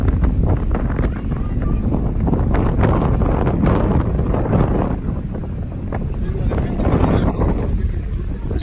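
Strong wind in Hamburg, Germany buffets the microphone in a constant loud roar, with gusts swelling and easing throughout and no talking.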